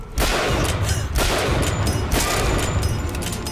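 Rapid gunfire from BioShock Infinite gameplay, a dense continuous volley of loud shots packed close together with no pauses, filling the whole stretch.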